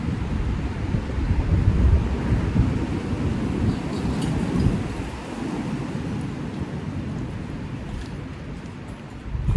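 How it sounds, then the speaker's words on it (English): Gusty wind buffets the microphone outdoors in a loud, continuous low rumble that swells and eases, with no talking. "that breeze kicking"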